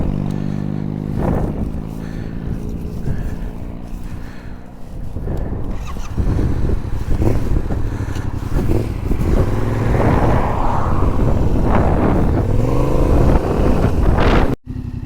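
Motorcycles, BMWs, pull away on a highway, their engines a loud rumbling roar rising and drawing off amid heavy wind noise, with no talking.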